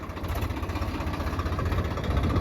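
A Swaraj 855 diesel tractor engine idling nearby, a steady throbbing rumble with rhythmic low pulses throughout.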